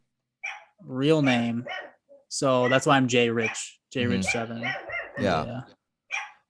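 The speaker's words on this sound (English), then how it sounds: "Sorry, that's my dog." A pet dog barks in the background of a podcast recording, its yaps mixed in with steady conversation between the hosts.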